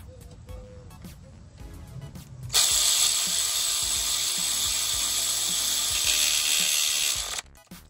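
A ratchet works on starter bolts of a Toyota Corolla, 2003–2008, first with quiet clicks and handling noise, then a loud steady whirring stretch of about five seconds before it cuts off.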